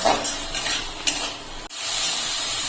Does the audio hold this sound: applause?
no